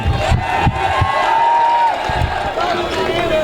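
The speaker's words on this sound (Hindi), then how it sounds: "अब एक बार तालियां बजा दो तो लगे कि हाँ," A large crowd at a mushaira responds with loud cheering and shouting over clapping, a dense roar of voices close and continuous with brief louder bursts.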